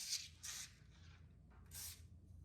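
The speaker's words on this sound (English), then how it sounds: "I'm going to just spray a little bit of oil on top of it." Three short hissing bursts of oil spray onto parchment paper, quiet and close, with faint rustling between them.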